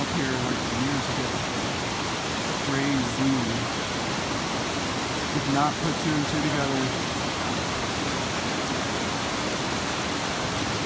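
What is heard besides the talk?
waterfall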